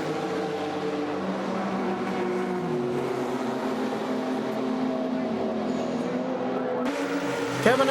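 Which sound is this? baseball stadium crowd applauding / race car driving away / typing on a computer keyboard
race car driving away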